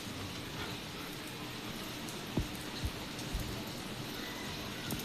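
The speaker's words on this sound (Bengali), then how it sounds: "সকাল থেকে বৃষ্টি, একদম ভোরবেলা থেকে বৃষ্টি পড়ছে" Steady rain falls through the whole stretch as a soft, even hiss, with a few heavier drips or taps landing close by around the middle; no one speaks.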